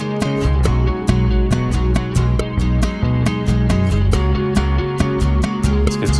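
A bass guitar line joins a rhythmic acoustic song arrangement, a steady low groove under strummed guitar and sharp percussive hits, with no voices.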